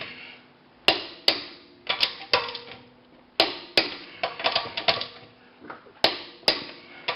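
Sharp metallic clicks and ratcheting from a torque wrench tightening wheel bolts during rear brake pad work on a VW Mk5, heard as irregular close taps spaced through the passage without talk.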